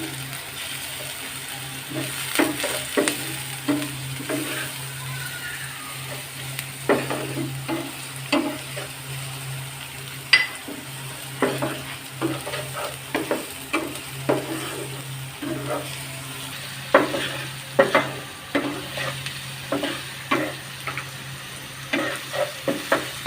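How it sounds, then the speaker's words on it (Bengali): Green chillies lightly frying with onions in a pan for a coral fish curry, a low steady sizzle punctuated by regular scraping stir strokes, close and fairly quiet. "কাঁচা লঙ্কা হালকা করে বেজে নিব।"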